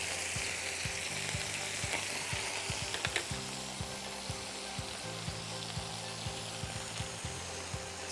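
Beef slider patties fry in hot oil, a steady sizzle broken by frequent sharp spits and pops of splattering grease, close and continuous with no voices over it.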